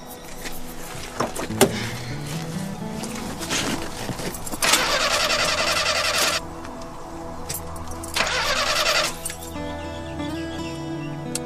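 A car is started with the keys in the ignition: a clink of keys, then the starter cranking in two bursts and the engine catching and rumbling close by.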